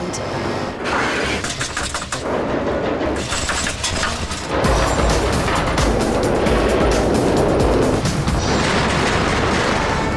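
A roller coaster train weighted with strapped-in sandbags in place of riders, sent around the track once at full speed during testing; a steady, loud rumbling roar that swells and grows heavier about halfway through, with no talking.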